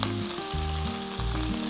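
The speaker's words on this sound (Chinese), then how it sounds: "那咱伫厝咱卖油煎，我们用煎的，用麻油去煎" Prawns fry hard in two tablespoons of sesame oil over high heat, cooking for a shrimp and glass-noodle casserole. A loud, steady sizzle runs throughout, with no talking.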